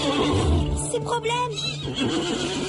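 A cartoon horse gives a loud, wavering neigh and snort over background music, with a voice speaking alongside it.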